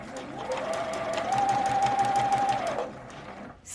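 A sewing machine stitches fabric in a steady, fast whirring run of a few seconds, with a brief higher mechanical whine in the middle, then stops.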